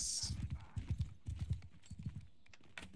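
Horse hooves clip-clop in a steady, close rhythm of repeated strikes in the Bannerlord video game, with faint voices talking in the background.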